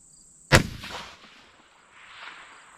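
A single sharp, loud 6 Dasha rifle shot fired outdoors with N140 or Varget powder cracks close by, then rumbles and echoes away over the following seconds.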